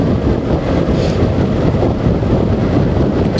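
Steady, loud wind buffeting on a Honda NC750X motorcycle fitted with a wind deflector, riding through the Cotswolds, a constant dense roar with no break and no voices.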